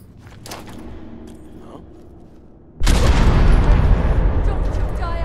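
A grenade blast in the video game Fallout 4 hits suddenly and loudly after a stretch of scattered gunfire, leaving a sustained roaring rumble and debris noise that carries on to the end.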